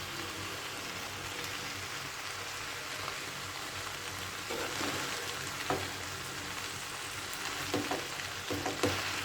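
Boiled noodles frying in a pan with vegetables and chicken, a steady close sizzle with light stirring scrapes and taps growing a bit louder toward the end.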